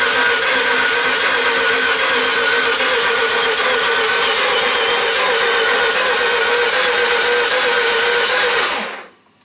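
A Mazda RX7 engine cranking and catching for its first start, a loud, steady, buzzing mechanical drone that holds evenly for about nine seconds before cutting off abruptly.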